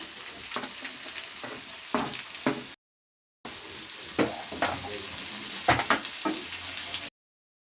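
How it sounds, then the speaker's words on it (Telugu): Chopped onions fry in a pan with cumin seeds for a ridge gourd and egg curry: a close, constant sizzle is punctuated by several scraping stirs, and a short silent break splits the sound in two. "చేసి పెట్టుకున్న ఆనియన్ వేసుకోవాలి."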